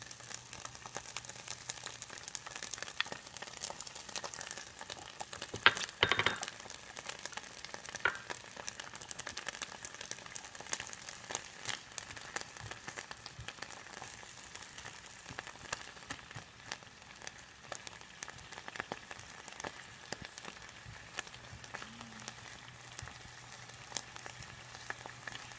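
Wild onions browning in olive oil in a frying pan, a steady, soft crackling sizzle that runs on evenly throughout with no talk.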